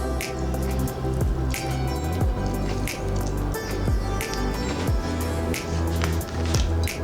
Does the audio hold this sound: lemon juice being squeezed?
yes